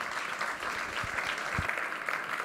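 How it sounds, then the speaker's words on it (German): Steady applause from a congress audience before a data protection law talk, a continuous wash of clapping at moderate distance with no voices over it. "Herzlichen Applaus."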